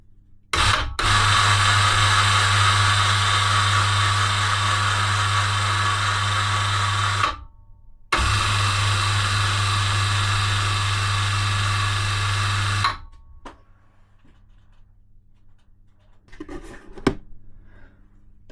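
An electric hoist motor for lifting a motorcycle whines steadily and loudly in two long runs with a short pause between, then stops, leaving faint clunks and rattles.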